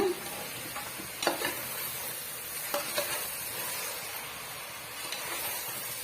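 Chicken biryani being stirred in a pressure cooker pot for a wedding-style dish, giving a few distinct scraping stirs over a steady background hiss, close and moderately loud, with no talk.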